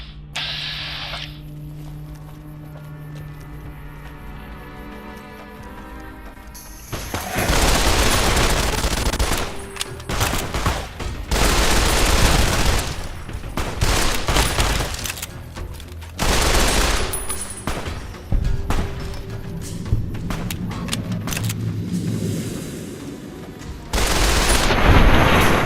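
Rapid gunfire crackles in a firefight in Fallout: New Vegas, with dense bursts of automatic shots and heavy blasts coming in loud waves over a steady background hum, with no talk.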